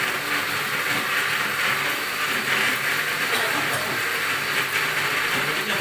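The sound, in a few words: blender blending spice paste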